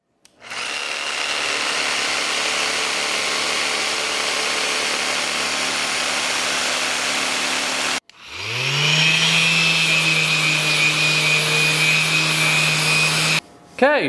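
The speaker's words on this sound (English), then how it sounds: "I'm just gonna go ahead and round off the tops and the bottoms of each one and get them sanded clean." A power sander rounds off the ends of wooden towel rack pieces, running in two long steady whirring bursts with a short stop between them, loud and close with no talking.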